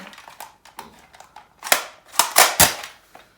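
A Zuru X-Shot Bug Attack Swarm Fire toy blaster slam-fires in a sharp rapid burst of plastic snaps and clacks, several quick shots clustered near the end, close and fairly loud.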